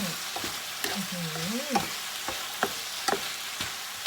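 A spatula scrapes and taps against a hot wok in irregular strokes while a stir-fry of frog and sour bamboo shoots sizzles softly underneath.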